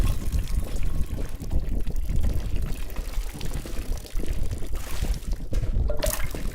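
Water is poured onto house plants in a Berlin apartment, a continuous close splashing and trickling stream that shifts in intensity as the flow moves between pots.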